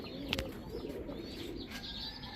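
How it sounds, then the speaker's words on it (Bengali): A pair of Jabra khaki pigeons from a racing line coo softly, with a few faint chirps and a light wing flutter set against quiet room noise. "লাইনের এক জোড়া খাকি কবুতর, তাও জাবরা খাকি"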